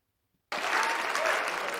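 Studio audience applause from a TV drama bursts in after half a second of silence, loud, dense and steady clapping that carries on without a break to the end.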